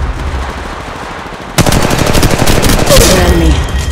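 Rapid automatic gunfire from Apex Legends Mobile, a loud sustained burst of shots opening up partway through after quieter in-game ambience, with tight repeated cracks filling the rest.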